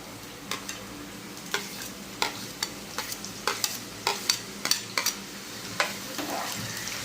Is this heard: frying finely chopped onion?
yes